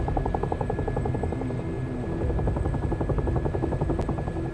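An Mi-8 helicopter warms up in a flight simulator game, its rotor thumping in a steady rapid pulse under a constant turbine whine, loud and unbroken.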